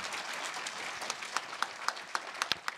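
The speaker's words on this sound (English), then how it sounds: "Can we give them another round of applause," Audience applause at an assembly on Indigenous knowledge, a steady wash of many hands clapping with sharper individual claps standing out near the end.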